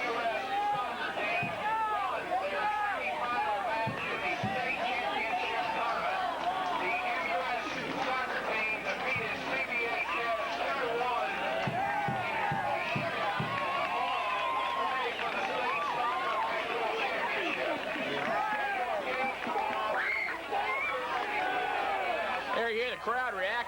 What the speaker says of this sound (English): There you hear the crowd reacting to an announcement concerning the soccer team's victory